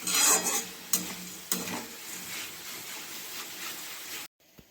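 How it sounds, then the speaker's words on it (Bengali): Potato chips frying in oil in a wok, a loud continuous sizzle with a few sharp utensil knocks and stirring scrapes, then cutting off abruptly near the end, with no talk. "আলুর চিপস দিয়েছি কড়াইয়ের মধ্যে"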